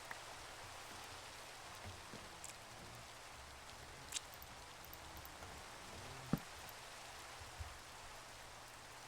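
Steady rainfall from the Minecraft video game, a soft, even hiss of falling drops throughout with a few faint clicks, quiet and with no talking.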